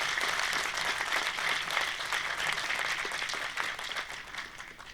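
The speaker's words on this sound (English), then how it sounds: "while girls were clapping and applauding thunderously, most of the boys were silent or impassive" An audience at a Kashmir debate and declamation event, mostly girls, applauding thunderously: dense sustained clapping from a crowd, fairly distant and even, fading slightly toward the end.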